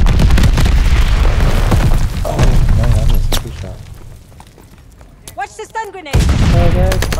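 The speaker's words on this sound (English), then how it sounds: "Incoming grenade!" A stun grenade goes off during a chaotic video game firefight, one sharp boom among loud bursts of gunfire while several voices talk over the action.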